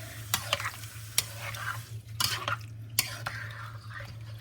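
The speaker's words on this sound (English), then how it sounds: "I'm going to stir it." Spoon stirring a pot of dairy-free shrimp chowder, giving soft scraping and clinking knocks at an uneven rhythm over a low steady hum and faint simmering hiss.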